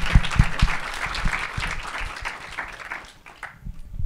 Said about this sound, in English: So Peter Becker, everybody, round of applause.